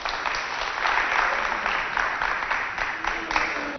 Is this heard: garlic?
no